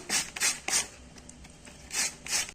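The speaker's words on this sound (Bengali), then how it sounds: "এইভাবে বিট আর গাজরগুলোকে আমি গ্রেট করে নিচ্ছি ঘষে নিচ্ছি" Beetroot and carrot are rubbed against a kitchen grater in quick rasping strokes, three close together, a pause, then two more, faint and close with nothing else audible.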